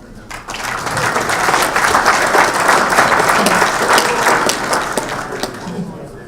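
Audience applause welcoming a veterinarian speaker at a swine health management talk, a sustained wash of many hands clapping that swells, holds steady for several seconds, then tapers off.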